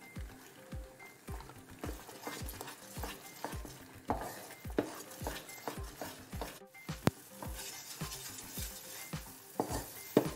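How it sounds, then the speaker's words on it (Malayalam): Rava kesari is stirred in a pan after the remaining ghee goes in, with a steady rhythm of soft spatula scrapes and thumps over a quiet sizzle. "ഇനി നമുക്ക് ഈ ബാക്കി വെച്ചിരുന്ന ആ നെയ്യ് കൂടെ ചേർത്ത് കൊടുക്കാം"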